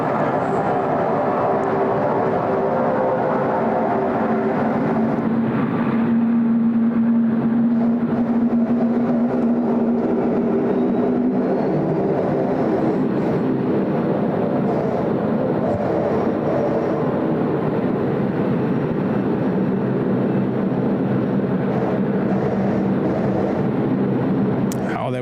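A Qantas airliner arriving on runway 34 left at Sydney Airport: a long, steady roar of jet engines at a distance, swelling slightly in the middle, under intermittent talking.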